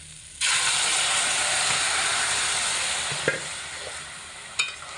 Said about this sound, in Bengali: এবার খুব ভালো করে নাড়াচাড়া করে মশলার সাথে পুঁই শাক কচুর ফুল সব একসঙ্গে ভালো করে মিশাতে হবে